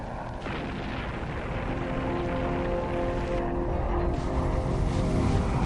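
Bombs dropped by an F-4 Phantom explode in a steady, rumbling barrage. It stays loud and dense throughout, with a sharper burst near the start, and no voices are heard.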